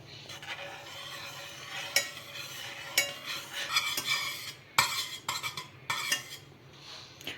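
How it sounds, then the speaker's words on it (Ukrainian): A spoon stirs and scrapes honey caramel around a pot, with irregular clinks against the metal and a faint sizzle of it cooking underneath. "продовжуємо нагрівати, постійно помішуючи до набуття карамельного кольору"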